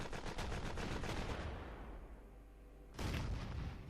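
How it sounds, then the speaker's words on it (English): Gunfire from AI units in the turn-based strategy game Turn Based Chronicles: Allied Corps, a rapid loud machine-gun burst that fades into rumble, then a second heavy burst breaks in near the end, with no talking. "Opening fire by the AI."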